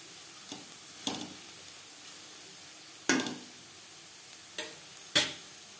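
Potato slices for crispy aloo bhaja frying in a little oil over high to medium flame, with a faint steady sizzle broken by a few sharp scraping clicks as they are stirred in the pan.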